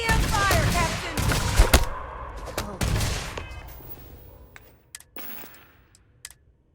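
EM weapon fire in the space game Starfield, a rapid burst of loud sharp shots and impacts that thins into scattered isolated blasts and fades toward silence.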